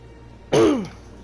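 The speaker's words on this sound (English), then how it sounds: "Sorry about that. Clear my throat." A single close, loud throat clearing, one short rasping burst that fades within about half a second.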